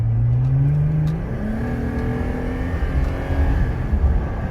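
A Jeep engine revs loud and close after a Rugged Ridge snorkel install, its steady rumble swelling and easing through several climbs in pitch with no talk over it.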